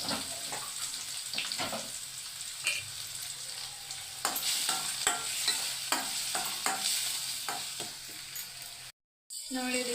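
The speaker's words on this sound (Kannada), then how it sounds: "ಎಣ್ಣೆ ಕಾದಿದೆ ನೋಡಿ, ಈರುಳ್ಳಿ ಹಾಕ್ತಾಯಿದ್ದೀನಿ." Chopped onion and tomato fry in hot oil in a pan, with a soft steady sizzle, scattered stirring clatters and a short break near the end.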